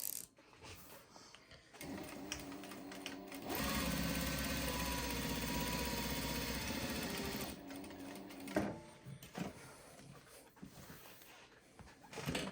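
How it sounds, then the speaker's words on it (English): A JUKI DDL-8100e industrial lockstitch sewing machine with an energy motor runs in one steady, loud burst of fast stitching lasting several seconds, set between quieter stretches of scattered mechanical clicks and handling noise. "As you can see, you get great stitches every time you sew, no matter the length."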